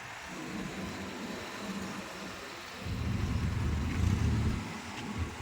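Car engine idling and creeping in low gear during a reversing practice lesson, a steady low rumble that swells slightly louder midway and holds, with no voices over it.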